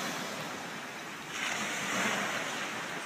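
Ocean waves break on a shore in a steady wash of surf, with one wave swelling louder midway and rolling on, with a faint breeze and no talking.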